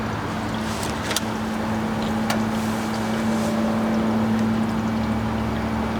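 A steady mechanical hum with a constant low tone runs throughout as an RV water system recharges, with a few faint clicks.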